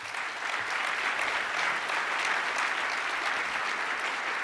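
Sustained audience applause from a conference crowd at a Google Cloud event in London, a steady dense wash of clapping hands at even loudness throughout with no break.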